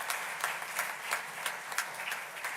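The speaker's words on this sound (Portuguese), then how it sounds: "a qual nós saudamos também com uma salva de palmas" A church congregation at a Sunday Mass applauds steadily with many hands clapping, moderately distant and even in intensity.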